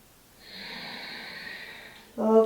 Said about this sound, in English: Smooth and strong ujjayi breath.